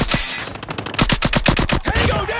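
Rapid bursts of automatic gunfire in the video game Call of Duty, a dense run of loud, sharp shots in quick succession lasting the whole moment, with no talk over them.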